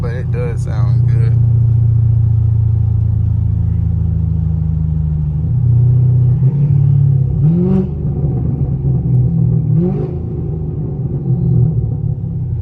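Sixth-generation Chevrolet Camaro SS V8 with its factory exhaust, a steady deep engine rumble heard from inside the cabin at cruising speed, with a couple of brief revs rising and falling, while someone talks over it.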